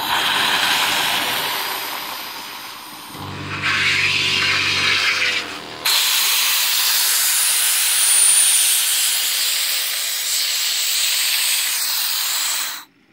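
Steam hisses loudly from a steam scooter's boiler valve as it is opened, a sustained rushing blast that shifts in tone partway through, then cuts off abruptly at the end.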